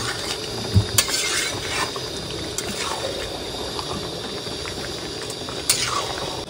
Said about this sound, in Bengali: দাদা এক কড়াই মাংস কিন্তু আজকে একদম আস্তে আস্তে নাড়িও।